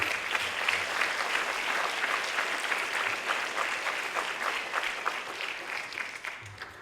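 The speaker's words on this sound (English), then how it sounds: "Give yourselves a good round of applause for the parents and students." An audience at the University Park Campus School 2024 graduation ceremony gives sustained, dense applause. The loud clapping holds steady before easing slightly at the end.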